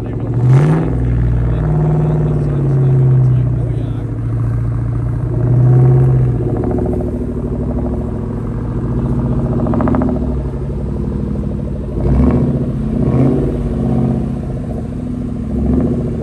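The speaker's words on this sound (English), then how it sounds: "it puts more load on the engine and the cars sound a little different" Several cars idle and rev at a show on grass, where the extra load makes the engines sound different, with a Terminator SVT Cobra among them; a steady low rumble with swells and a couple of sharper revs, fairly close, with voices mixed in.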